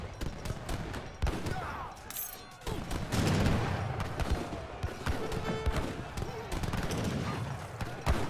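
Organ guns and other units fire in a battle in Age of Empires III, heard as dense, overlapping volleys of gunfire and booms, continuous and loud, with talk running over them.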